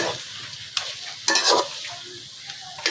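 Taro stems (kochu) being stirred in a hot wok, with bursts of metallic scraping and rustling over a low steady sizzle.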